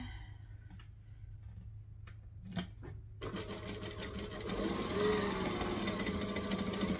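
A sewing machine stitches piping onto a vixen garment, starting after a few quiet seconds of clicks and handling, then running steadily and close to the end.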